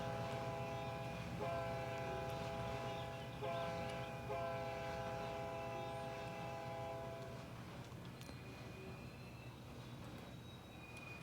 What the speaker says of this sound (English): we are just taking this train back to the yard. Some empties.